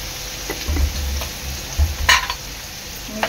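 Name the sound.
stirring salt into veg kolhapuri curry in pan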